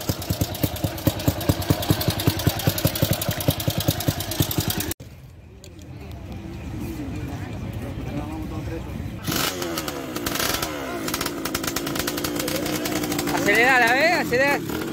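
Antique and classic motorcycles, one of them a 250, idle with a steady pulsing putter. Another engine chugs and revs nearby at a gathering of old bikes, while people talk intermittently over the running motors.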